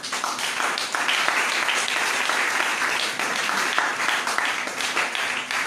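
A congregation at a Friday prayer service bursts into loud, continuous applause to acclaim the Lord, many hands clapping close and dense, with faint crowd voices mixed in.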